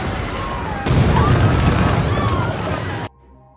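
A loud explosion in an action film scene with a SWAT team, bursting into a sustained heavy roar that rumbles for about two seconds before cutting off abruptly.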